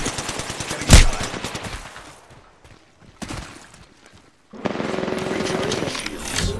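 Gunfire in the Apex Legends video game: a loud burst of shots near the start, a quieter stretch, then another spell of shooting with game noise, and some talk in the background.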